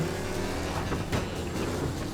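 Car engine in Mafia: Definitive Edition, running hot with a rising engine temperature: a steady, dense motor drone holds throughout at moderate loudness with no talk, swelling briefly just past the midpoint.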